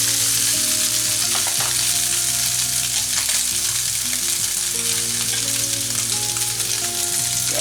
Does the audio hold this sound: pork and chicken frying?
yes